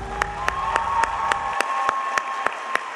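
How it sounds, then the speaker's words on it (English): Rhythmic clapping at a Teacher of the Year celebration honoring a teacher, sharp evenly spaced claps ringing out over a sustained tone, close and fairly loud. "Let's give a round of applause for Miss Angie Kruger"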